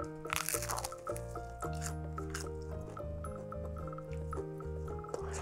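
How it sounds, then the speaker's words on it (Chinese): Someone bites into a freshly baked cheese ball made with tapioca flour, with a crisp crust and a soft, chewy inside. A few quiet, crisp crunches sound early on, faint beneath background music. "它吃起来是特别酥脆的口感，外皮，然后里边是软软糯糯的"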